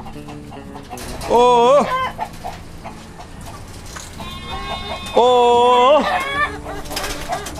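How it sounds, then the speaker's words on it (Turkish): Chickens in a barn cluck nearby, with two loud drawn-out squawks standing above softer clucking while a person talks among them. "Görün tavuklarımı, görün."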